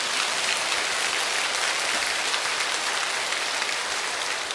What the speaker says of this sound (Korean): 오늘 주님 앞에서 박수 치려면 제대로 치고